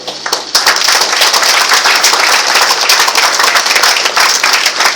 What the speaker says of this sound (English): a good clap for all of you